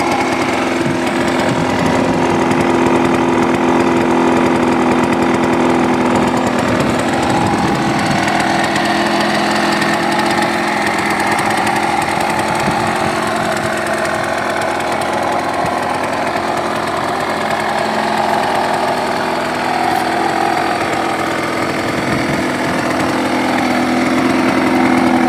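A stock Yamaha DTR 125 two-stroke motorcycle engine runs steadily with its original exhaust, giving a loud, constant buzzing idle close by with no talking.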